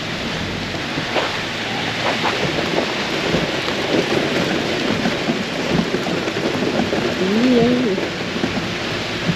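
Steady rain falls at a campsite, a dense, continuous patter under occasional low rumbles, with a bird calling briefly near the end.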